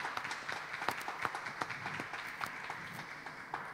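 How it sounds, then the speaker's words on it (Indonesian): A talk show audience claps steadily to welcome a guest, as distinct hand claps at a moderate distance form a fairly quiet, even patter. "kita sambut ya dengan tepuk tangan meriah Ibu Esther Kandau."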